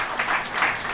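A church congregation at a Holy Communion service claps in a steady, moderately loud patter that swells in waves for a second.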